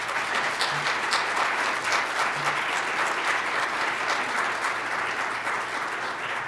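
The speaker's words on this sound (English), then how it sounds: "Let's give our panelists a round of applause." A conference audience applauds the panelists in a dense, steady burst of clapping that holds evenly at close range for several seconds, with no voices over it.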